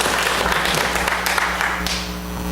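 A church congregation applauds the choir after a Sunday service anthem, a dense burst of clapping lasting a few seconds and tapering off, with a voice faintly underneath.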